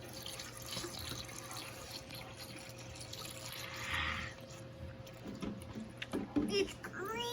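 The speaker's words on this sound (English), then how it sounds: "And in goes the antifreeze." Antifreeze poured through a funnel into the radiator of a 1966 Mustang, a soft continuous trickle of liquid running for several seconds, fairly quiet, with a few brief louder splashes near the end and faint voices around it.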